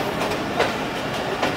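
A passenger train diverted onto a loop line near Haripur Band station after the Chenab River rolls along steadily, its rhythmic clickety-clack of wheels on rail joints heard from inside the carriage.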